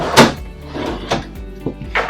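Floor-to-ceiling pantry doors with concealed residential hinges in an Open Range 293RLS travel trailer shut with about four close wooden thunks, one sharper knock up front and softer bumps after, with no talking.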